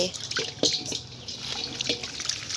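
Tap water pours into a cooking pot while bananas are being prepared for boiling, a steady close splashing and trickling that runs continuously throughout.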